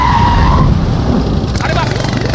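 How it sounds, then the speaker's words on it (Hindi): A car skids to a stop on a road, a loud, close, sustained tire squeal over heavy engine and road rumble, with dramatic film-style sound around it. "गाड़ी रोक रहे।"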